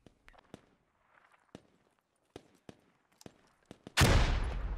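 Scattered sharp rifle shots pop at irregular intervals in the military shooter game Squad, then a frag grenade detonates in a loud, booming blast that rumbles and slowly decays.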